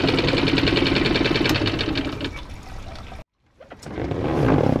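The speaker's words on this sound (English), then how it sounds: "Literally pouring this into the tank and then starting the motor." A small boat outboard motor, freshly fuelled with stabilizer, chugs and runs with a rapid rhythmic putter, then cuts out briefly before sputtering back to life and revving up again, loud and close.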